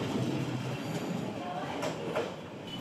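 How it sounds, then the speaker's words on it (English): A train rolling through Hanoi's Train Street, a narrow rail corridor running very close to houses in the city centre, with a steady loud rumble of wheels and faint squeals over the passing cars. "It's a rail corridor through the centre of the city where trains run perilously close to the"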